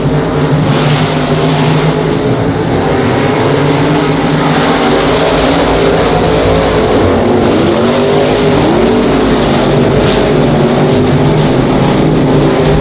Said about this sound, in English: Watch the D7 of David Balfe as he goes down low into turn number 3, trying to get a run on the 65 of Braden Wyatt